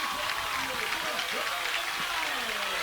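Crowd at a high school football game, Northside Methodist vs Macon East, cheering as the Knights take the field, a steady wash of distant cheering and applause under faint whistle-like tones.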